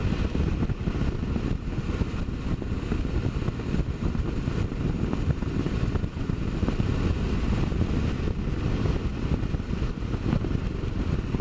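Small motorbike cruising at about 60 mph on a closed road, a steady droning engine note blended with constant rushing wind noise, unbroken and even throughout.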